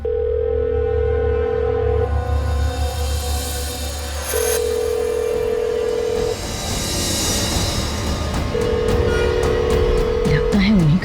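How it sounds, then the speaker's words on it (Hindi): A telephone rings in a Hindi TV drama scene, sounding as a repeated electronic tone in long evenly spaced bursts over background music, with a short clicking patter near the end. "फोन है।"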